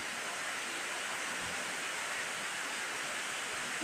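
Steady rain pours down in a dense, unbroken hiss that stays at an even level throughout, with no other sounds standing out.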